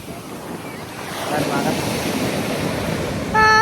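Ocean surf rolls onto a beach in Bali with a steady wash that swells louder after the first second. Wind buffets the microphone throughout, and a brief tonal sound appears near the end.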